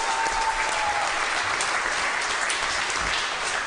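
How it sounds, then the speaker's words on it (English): Steady, dense applause from an audience fills the room, loud and even throughout without any voices. "Let's hear it for Brad."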